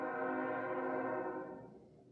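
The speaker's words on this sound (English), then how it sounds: "The train." Train horn sound effect, a single sustained chord-like blast heard alone and up close, steady at first and then fading away near the end.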